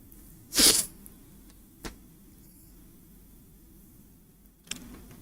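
A single sharp sneeze bursts out in a quiet room, followed by a couple of faint clicks.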